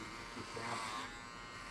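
Electric hair clipper used open with a 1.5 guard for a buzzcut on thick hair, a steady close-up mechanical buzz running continuously without pause.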